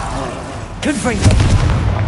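In Hogwarts Legacy, a Confringo blasting spell detonates in a sharp, booming explosion that follows a brief whooshing swirl of magic effects, loud and close within the game's combat mix.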